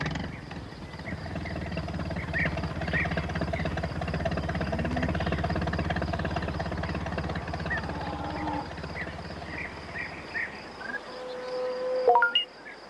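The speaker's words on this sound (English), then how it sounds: "Peter Fogg brought the tractor to tow Pat out." A tractor engine chugs steadily and close by as it tows a stuck van out of the mud, a low continuous rumble that carries on for the whole stretch before tapering off near the end.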